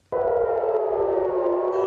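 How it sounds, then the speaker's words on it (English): A missile warning siren sounds over Tel Aviv in the early morning, starting abruptly with one loud, sustained wailing tone that slowly falls in pitch. "In Tel Aviv, sirens were heard in the early hours of Friday morning following a missile launch from Yemen"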